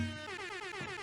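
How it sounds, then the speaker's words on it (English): A single air horn blast, about a second long, loud and brassy with a sustained tone and slight wavering pitch. "Air horns never go wrong."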